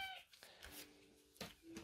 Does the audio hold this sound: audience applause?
no